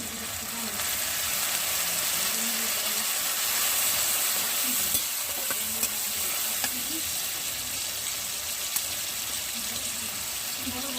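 A splash of water hits a hot pan of chicken tadka masala, giving a steady, full hiss and bubbling that holds evenly throughout, with a few faint clicks of utensils.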